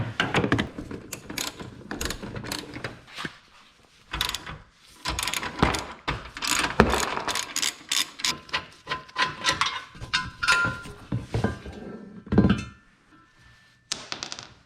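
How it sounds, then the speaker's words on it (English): Ratchet on a long extension loosening a 14mm bolt on a Subaru STI during a front mount intercooler install, with close rapid clicking bursts broken by metallic clunks and short pauses. "So you also want to use kind of a longer extension for this 14mm bolt."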